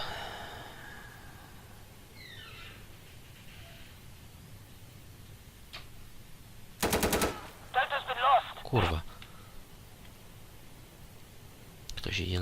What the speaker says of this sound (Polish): Dźwięki broni bardzo ładnie odwzorowane.